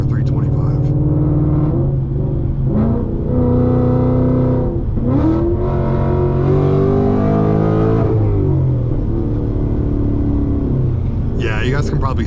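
A Whipple-supercharged 2025 Mustang GT on 275 tires accelerates hard, its engine revving up through several rising sweeps with brief gear-change dips, loud and close from inside the car, struggling for traction.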